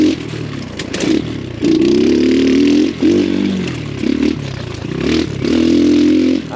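An X Pro Storm 150 DLX dual sport motorcycle with a small carbureted engine rides a rough trail, its engine loud and close, revving in repeated surges with short dips between accelerations.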